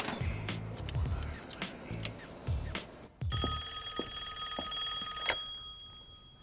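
A telephone rings for a collect call, first as repeated short electronic trills in bursts, then a sustained bright steady tone for about two seconds, fairly loud and close with no speech.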